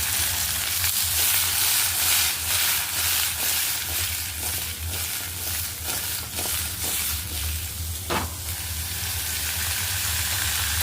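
Boiled flat beans (chikkudu) being stir-fried in a pan give a steady, close sizzle with soft scraping stir sounds throughout, a brighter clatter near the end.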